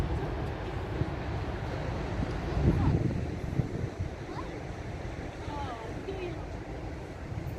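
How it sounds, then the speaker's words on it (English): Ocean surf at Little Bay, La Perouse, Sydney, a steady broad wash of waves with wind buffeting the microphone and a brief louder surge of water midway, continuous throughout. "Hear the ocean."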